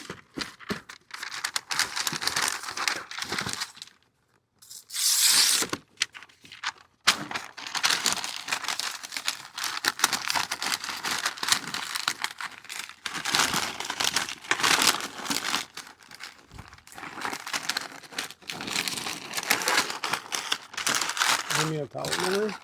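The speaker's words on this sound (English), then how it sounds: "We're gonna put this in butcher paper and then into a cooler." Butcher paper crinkles and crackles as it is wrapped around smoked short ribs from an Oklahoma Joe's Bronco, with repeated close rustling bursts, a short pause, and faint talk in between.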